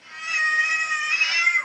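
Cat meowing, one drawn-out high meow held for more than a second, clear and close with nothing else behind it.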